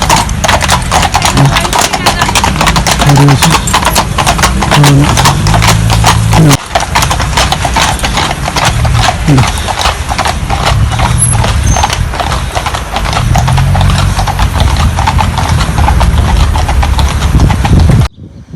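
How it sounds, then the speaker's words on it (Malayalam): Horses pulling a traditional UK horse-drawn hearse carriage, with loud, continuous rhythmic clip-clop of hooves on the road close by, over a low rumble, with a short gap near the middle and occasional background voices. "കുതിരകൾ"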